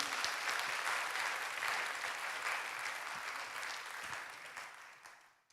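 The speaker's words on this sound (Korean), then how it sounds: "하나님께 영광의 박수 돌리시죠" A large church congregation applauds steadily during a Sunday service, a dense wash of clapping that carries on without a break and then fades away toward the end.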